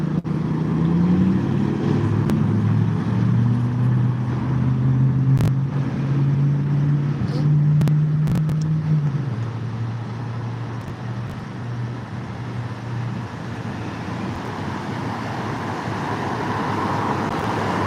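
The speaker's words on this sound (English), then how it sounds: "Look, there's another one of them Mohawk trucks." A Mohawk truck rolls past on the road, its low engine drone loud and close for several seconds before easing off into steady traffic noise.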